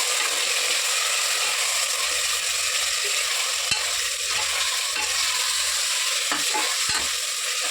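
Chicken pieces frying and being stirred in a pan with ginger paste while making chicken haleem at home, a steady loud sizzle with scraping stirs and clicks throughout, no talking.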